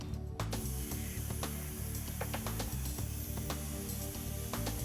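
A Hypertherm Powermax125 plasma cutter torch starts its arc on a metal workpiece, giving a steady harsh hissing spray with a pulsing low electrical buzz and crackling bursts, close and continuous.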